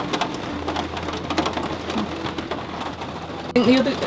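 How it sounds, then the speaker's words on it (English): Rain patters steadily on a van roof close overhead, with a brief higher chirp-like sound near the end and no talking. "Can you hear that rain?"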